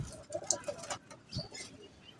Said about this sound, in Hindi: तो हमारे कबूतर थे, कबूतर आ गए